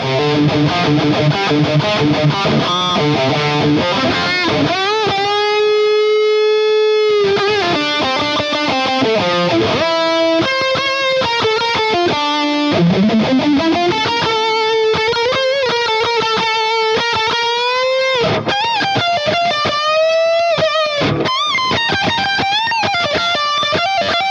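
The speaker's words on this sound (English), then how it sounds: "that ambience reverb, just to make it sound like we're miking a speaker cabinet" Distorted electric guitar through a Fractal modeler with a miked-cabinet ambience reverb plays a sustained melodic line with sliding notes, washed in delay echoes and reverb, loud and continuous throughout.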